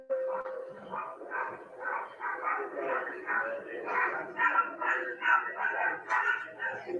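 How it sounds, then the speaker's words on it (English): A dog barks repeatedly in quick, rhythmic bursts, muffled and slightly distant, from a home video played back during a murder trial, with voices mixed underneath. "I mean, a dog barking."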